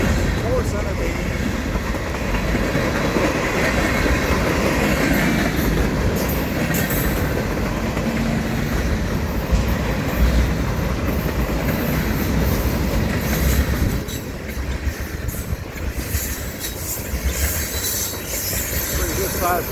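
A long manifest freight train of center-beam flatcars, covered hoppers and tank cars rolls past up close, a steady loud rumble of wheels with clickety-clack and occasional flange squeal, continuing throughout with some talk underneath.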